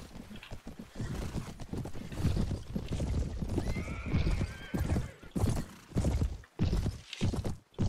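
Cavalry horses in the Mount & Blade Warband video game whinny and neigh repeatedly over a steady clip-clop of hooves, loud and close, with busy battlefield noise underneath and no talk.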